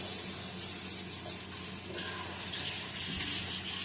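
Running tap water gushes steadily over hands being washed in a kitchen after coating pollock fillets in flour, a continuous close hiss with no talk.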